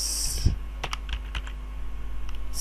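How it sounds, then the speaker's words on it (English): Keys on a computer keyboard tap in quick, uneven bursts at close range over a low steady hum, with scattered clicks and short pauses. "So I'm just typing set payload space Windows"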